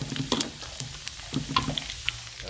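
Fish crackles and sizzles as it fries in hot oil, with scattered pops and light clinks over a low background hum, no talking.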